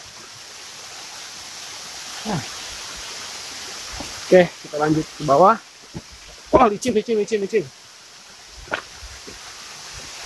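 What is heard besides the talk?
roaring waterfall, Curug Tarengtong, Cianjur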